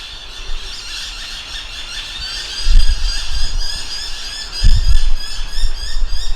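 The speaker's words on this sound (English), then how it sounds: "if you can actually hear the sound of the birds here" Birds call continuously from the trees at Picnic Point in Toowoomba, Queensland, with one loud, repeated, squealing cry standing out over softer chirps and low rumbling wind bursts.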